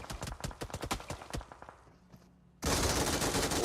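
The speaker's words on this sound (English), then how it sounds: "Oh, that MG3. The moment you hear it, you should start shaking in your boots." MG3 machine gun fire in PUBG Mobile during a pro esports match: a fast, steady rattle of rounds for about a second and a half, then a pause and a loud burst of wide, dense noise.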